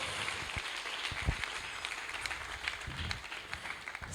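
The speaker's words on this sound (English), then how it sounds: "So let's give everyone a big round of applause." An audience at the last night of the Kartik festival applauds the volunteers with a dense, steady round of clapping from many hands in a hall.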